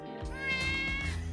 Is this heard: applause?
no